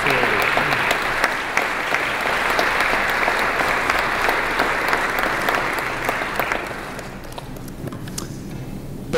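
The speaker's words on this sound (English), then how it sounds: "And you can give them all a round of applause." Convention audience applauding the national board of directors as they join the stage, a sustained, dense clapping that fills the room and tapers off near the end.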